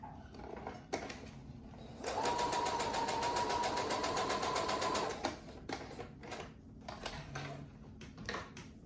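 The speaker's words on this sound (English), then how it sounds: "I'm going to match that up and sew it" A sewing machine stitches a fabric face mask with a steady whirring run of about three seconds in the middle, framed by quieter clicks and fabric handling before and after.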